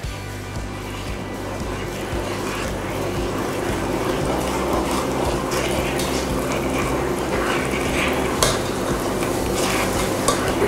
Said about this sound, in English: you just want to stir in that instant pudding mix until it's well combined